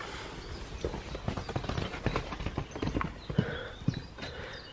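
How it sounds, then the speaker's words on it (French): Rapid hoofbeats of a galloping horse, a quick irregular clatter of thuds, fairly close and loud, with no talking. "Le cheval qui partait au galop."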